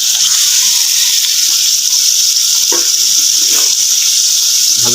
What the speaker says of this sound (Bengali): দেখুন এবার যে ভাজা সবজিগুলো ছিল আমি এতে দিয়ে দেবো।